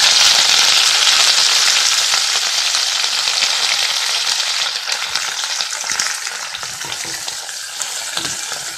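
Crushed dried chili, crushed garlic and curry leaves hit hot oil in a pan for a loud, dense, close sizzle that slowly eases, with a few crackling pops and stirring scrapes near the end, no talking.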